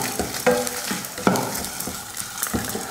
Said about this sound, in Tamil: வரமிளகாய் போட்டு நல்லா வதக்கியாச்சு.